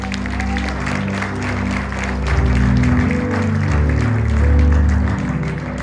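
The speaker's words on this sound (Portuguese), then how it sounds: "Você poderia dar uma salva de palmas?" A church congregation claps together during a sermon, the broad wash of applause sitting over sustained, loud instrumental music with steady low tones throughout.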